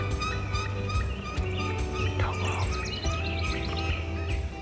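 Wild turkeys gobble from the roost on a spring morning in Michigan, several birds calling in overlapping bursts at mid-distance, mixed with chirps and tweets from smaller birds over a steady low rumble.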